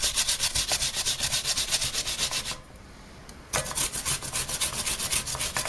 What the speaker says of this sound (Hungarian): viszont ehhez a zalai prószához azt ilyen finom apróra reszeljük le.